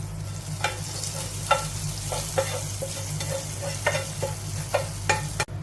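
A spoon stirs pumpkin erissery with curry leaves in a pan, scraping in a steady rhythm of soft knocks against a continuous low sizzle and a faint hum underneath, with one sharper clack near the end.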